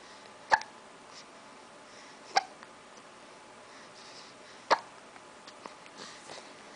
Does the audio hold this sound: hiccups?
yes